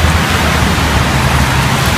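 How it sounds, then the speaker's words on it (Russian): Steady spring rain falls on a city boulevard where people walk under umbrellas, producing a dense, even hiss with a low rumble underneath and no voices. "Вообще у нас идет дождь, чтобы вы знали."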